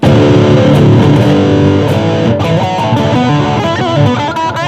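An electric guitar plays a distorted solo through an amplifier with the boost pedal switched off, loud and continuous with fast shifting notes and a slightly muffled, recessed tone.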